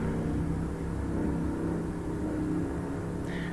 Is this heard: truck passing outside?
yes